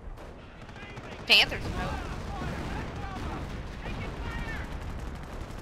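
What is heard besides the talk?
artillery and gunfire in video game Company of Heroes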